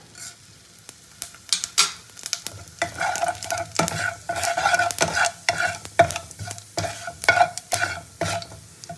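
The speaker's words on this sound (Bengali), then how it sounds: "প্রথমে আমি জিরে ফোড়ন দেবো" Cumin seeds crackle and sizzle in hot oil in a pan, with sharp pops and spatters and a steady frying hiss, close and moderately loud.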